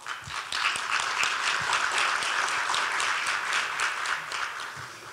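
Sustained applause from a seminar audience welcoming guests at the opening ceremony of a smart mobility vision seminar, a dense steady wash of many hands clapping throughout with no voices on top.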